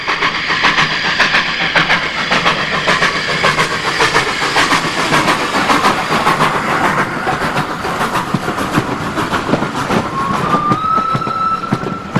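A 1948 Hudswell Clarke steam tank locomotive, formerly of the National Coal Board, works a train at Priors Lane, with loud, continuous chuffing and rail clatter nearby, and a rising whistle tone near the end.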